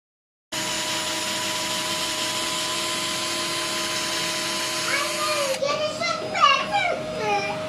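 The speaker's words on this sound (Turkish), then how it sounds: "Oğlum süpürgeyle şu an iç kısımlarını süpürüyor." A steady, loud vacuum cleaner drone with a whining hum runs throughout as it cleans the inside of a Montessori floor bed, and a voice chatters over it toward the end.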